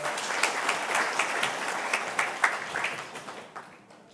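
An audience at a Korean forum on digital piracy and copyright education claps in a steady, fairly loud round of applause that fades out toward the end, with no talk over it.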